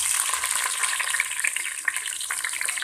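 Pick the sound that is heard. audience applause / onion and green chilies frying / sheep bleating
onion and green chilies frying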